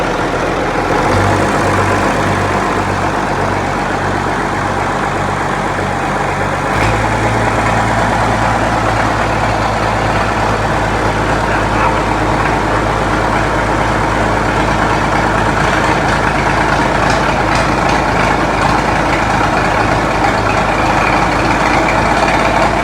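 An Oliver farm tractor's diesel engine runs on after just starting, a loud close heavy idle with a pulsing low throb that steadies into an even continuous chug, no voices.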